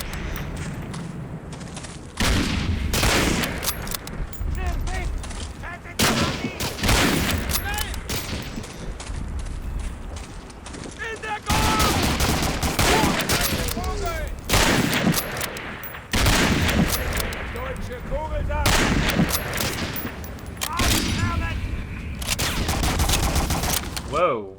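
Heavy gunfire while shooting enemies in the Medal of Honor Warchest war game, loud sustained bursts and volleys with brief gaps over about 25 seconds, with occasional voices underneath.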